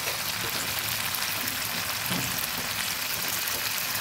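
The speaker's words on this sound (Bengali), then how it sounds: "আদাটা কিছুটা ভাজা হয়েছে" Ginger paste with a splash of water fries in a pan for a chickpea masala, giving a steady, dense sizzle throughout with no talking.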